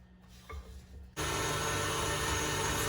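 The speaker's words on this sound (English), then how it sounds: "Let's scrape that real quick because there's a little bit of brown sugar stuck on the side here." A brief scrape of brown sugar off the side of a mixing bowl during creaming with butter, followed by a sudden loud, steady whir of a mixer motor that continues to the end.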